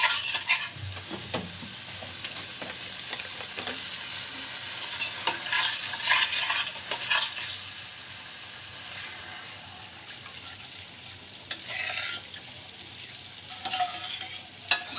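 Water poured into a pan of fried masala for an egg omelette curry makes a burst of sizzling and hissing, followed by steady bubbling and stirring scrapes.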